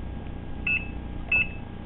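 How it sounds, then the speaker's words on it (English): An oven timer gives two short electronic beeps about half a second apart, clear and close over a low room hum with nobody speaking. "Now we set the timer for 25 minutes."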